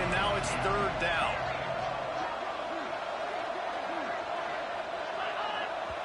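A stadium crowd roars steadily in a college football video game, a dense, loud, continuous wash of noise while a commentator talks over it.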